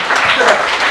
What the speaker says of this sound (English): Let's get a round of applause for Zach.